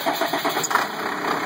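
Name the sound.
diesel bus engine cold starting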